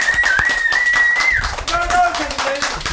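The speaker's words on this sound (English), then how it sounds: "That is literally fadeable applause" Recorded applause from a crowd at a stage event fades down, with dense, steady clapping and overlapping voices and a brief tonal whine running underneath.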